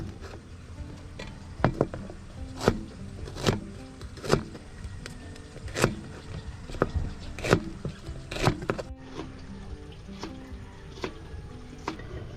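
A knife cuts through washed chili peppers on a board, making a steady run of sharp chopping taps about one per second, each clear and close, with faint kitchen background between them.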